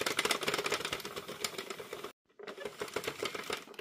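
Knitting machine working yarn into rounds with a fast, dense clatter of needles and carriage, a brief pause midway, then the rattling resumes.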